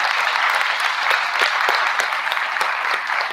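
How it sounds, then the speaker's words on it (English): A school awards program audience claps for an organizer, a full, steady burst of many hands with a few sharper individual claps standing out near the front. "So a round of applause for him."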